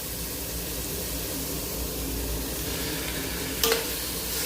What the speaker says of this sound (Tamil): தக்காளியை நல்லா வதக்கி விட்டுக்கலாம்.